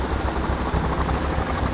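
A helicopter in the video game Payday The Heist thunders close and loud, its rotor beating in a rapid, steady chop with no pause.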